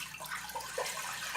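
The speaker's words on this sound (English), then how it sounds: "step 1 is we are gonna pour some water in our pot" Water pours into a cooking pot in a kitchen, a soft, continuous splashing and trickling that lasts the whole brief moment without pause.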